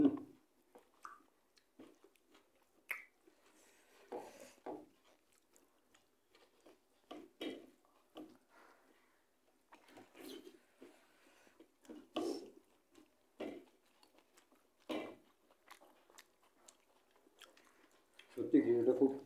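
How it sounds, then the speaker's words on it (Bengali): Close, soft chewing and biting while eating hot khichuri made with garlic, onion, peas and masoor dal, in irregular bursts with short pauses between mouthfuls. "হ্যাঁ, আস্তে আস্তে তো খাচ্ছি।"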